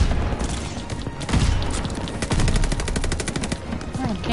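Rapid automatic gunfire from the Call of Duty Vanguard video game, with dense bursts and sustained rattling volleys that come loud and close. A voice is faintly mixed in underneath.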